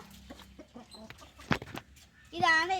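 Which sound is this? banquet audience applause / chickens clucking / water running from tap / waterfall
chickens clucking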